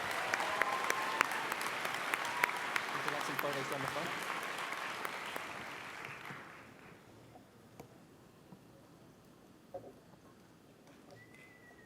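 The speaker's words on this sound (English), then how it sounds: "Big round of applause for supportive boyfriends." Audience applause at a cosplay competition, a broad steady crowd clapping for about six seconds before fading out, followed by quieter room sounds and a voice.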